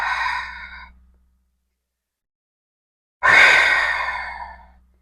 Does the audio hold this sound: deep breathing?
yes